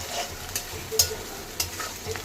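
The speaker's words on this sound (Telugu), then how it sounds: "అల్లం వెల్లుల్లి పేస్ట్ వేయాలి బాగా కలపండి వేయించండి బాగా" Ginger garlic paste fries with tomatoes and onions in a pan and is stirred, giving a soft, steady sizzle broken by a few light scraping strokes from the spoon.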